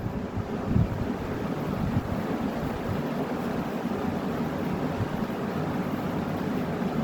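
A 20-inch Lakewood box fan on high speed, set in a window facing out, gives a steady, fairly loud broadband whoosh with low rumble and no pauses.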